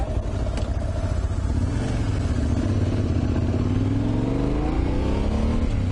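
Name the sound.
Yamaha Tenere 700 motorcycle riding through twisties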